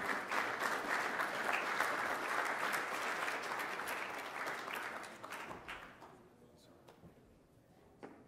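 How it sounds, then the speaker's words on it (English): Audience applause at a CanBIM certification ceremony in Vancouver, a steady, full round of clapping that thins out and fades over the last few seconds, leaving a few scattered claps. "So if we could just have a round of applause for Juan Lepe from Dialogue."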